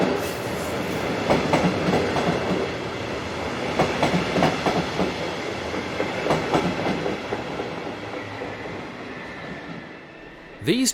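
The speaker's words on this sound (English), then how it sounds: "Arriving from the north is 246006, one of 8 locomotives built in 2006 that work these services." Metronome electric locomotive 246006, built in 2006, arriving from the north with its train, a continuous rumble with rhythmic clicking of wheels over rail joints, fairly close, with a faint squeal near the end.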